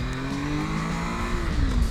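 Engine of a 955i motorcycle pulling hard on a curvy road in Bulgaria, a steady loud droning whine that rises slightly in pitch, heard continuously from on board.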